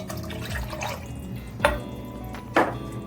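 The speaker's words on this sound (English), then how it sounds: "So I'm gonna pour the milk in now." Milk poured into a pot of stew peas thickened with crushed cooked beans, heard as two short splashy liquid bursts over a quiet kitchen background.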